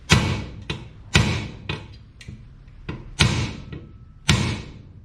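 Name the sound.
hammer tapping on stuck part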